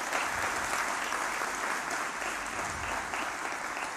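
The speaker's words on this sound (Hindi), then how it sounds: "एक बार जोरदार तालियां" Sustained, dense applause from an audience at a legal literacy project inauguration ceremony, steady and loud throughout with no talking.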